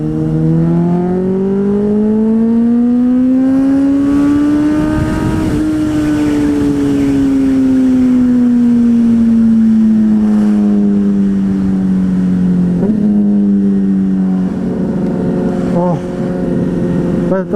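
An old-school Porsche engine revving, a loud close tonal drone that climbs in pitch, eases slowly back down, then rises again near the end, with a voice heard briefly over it.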